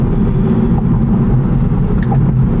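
A 2023 Acura Integra Type S engine drones loud and steady from inside the cabin during a downshift in sport mode, a low continuous rumble with no one talking.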